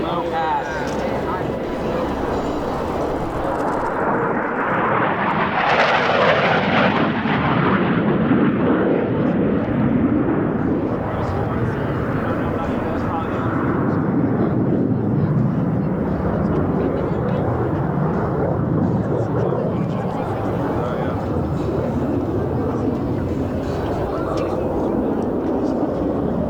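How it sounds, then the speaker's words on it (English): An AV-8B Harrier jet makes a high-speed low pass at the Cherry Point airshow. Its loud, broad roar swells to a peak around the pass and then stays as a sustained, rumbling jet noise. "Coming from the left, Lieutenant Colonel Schrock, conducting a high-speed low pass"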